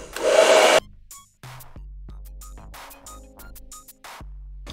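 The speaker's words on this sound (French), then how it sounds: "mettez pas le sèche-cheveux en position froide" Hair dryer on its hot setting during a brushing session, a loud steady blowing roar for under a second before it cuts off, followed by a low hum and scattered small clicks and knocks.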